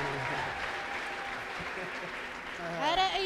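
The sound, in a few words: audience applauding in church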